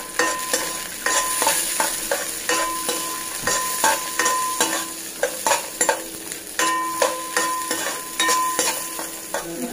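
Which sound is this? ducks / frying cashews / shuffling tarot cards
frying cashews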